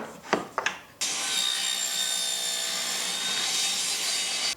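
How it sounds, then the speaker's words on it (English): Table saw blade raised to cut into a wooden jig fence, preceded by a couple of short wood knocks, then a loud steady whining cut of several seconds that stops abruptly, with no talk. "I've raised the blade up so it's going to cut into the fence, and then I'm going to make my cut and pull it back out."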